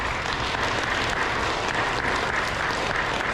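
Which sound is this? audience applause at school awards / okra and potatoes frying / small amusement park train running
audience applause at school awards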